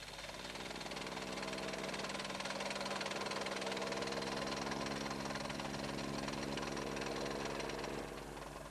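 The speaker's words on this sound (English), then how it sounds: "the next stage is to go over with a vibrating plate" A vibrating plate compactor's engine runs over freshly laid block paving on a sand bed, a loud, steady mechanical drone with buzzing vibration that holds evenly and then cuts off near the end.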